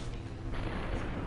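Gunshots in a kitchen in the game Super Hot come as dense, booming blasts, one continuous loud roar of heavy fire up close with no clear gaps.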